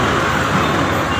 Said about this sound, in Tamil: எவ்வளோ பெரிய டிராஃபிக் ஜாம்.